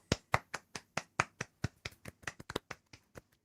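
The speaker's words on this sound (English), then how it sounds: "That's a round of applause." One person claps alone, about sixteen sharp separate hand claps in a fairly even rhythm that speeds slightly toward the end, close and clear with no talk.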